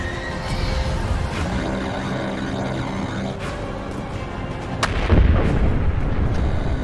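An artillery barrage pounds away in the mecha video game Mecha Knights Nightmare, with dense rumbling booms and scattered sharp blasts, swelling into a heavier, louder impact near the end.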